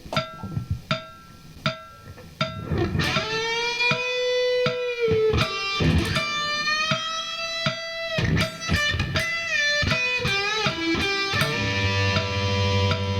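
A distorted electric guitar solo with repeated string bends, notes sliding up and sustaining, picked phrases played loud and alone, ending on a low chord.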